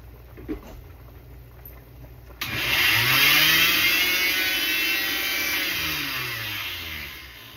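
An electric grinder motor grinding birria ingredients kicks on after a quiet stretch with a few clicks, then runs with a steady loud whine and slowly shifting pitch, close by.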